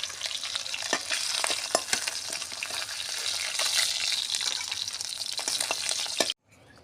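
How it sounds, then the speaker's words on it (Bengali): A fish head fries in hot oil in a kadai, a steady close sizzle with crackling pops that runs evenly and then cuts off abruptly near the end. "তেল গরম হয়ে গেছে, মাছের মাথাটা ভেজে নিচ্ছে।"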